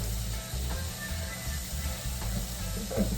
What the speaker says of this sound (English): So, boom, beans are added. Stir that up a bit.